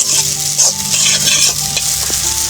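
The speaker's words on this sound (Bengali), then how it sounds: "শালি নুডলস রান্না করতেছে মজার নুডলস" Noodles stir-fried in a pan, a steady loud sizzle with repeated scraping and clinking of a utensil against the metal, continuous throughout with no voices.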